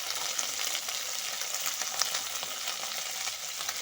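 Eggplant fries with cut onion stalks and slit green chilies in a pan, giving a steady, loud, close sizzle with faint stirring crackles and no talking.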